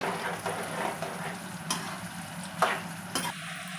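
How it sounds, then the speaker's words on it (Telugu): Drumstick pieces fry in hot oil while being stirred, a steady low sizzle with a few sharper scraping strokes, close and moderately quiet, no voices. "ములక్కాయలు లైట్గా బ్రౌన్ కలర్ వచ్చేంత వరకు వేపుకోవాలి"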